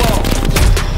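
Loud, close automatic gunfire in the shooter Call of Duty Black Ops Cold War, a rapid burst of shots filling the short moment.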